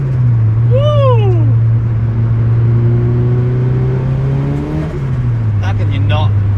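A Budget Evo with a SOHC 4G93 turbo engine and a custom manifold drives along, its deep exhaust drone steady and close, while someone talks over it with a rising whoop near the start.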